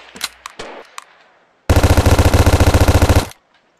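A submachine gun in a VR shooting game's sandbox mode fires one sustained, rapid automatic burst of about a second and a half, loud and close, after a few quieter clicks and handling knocks.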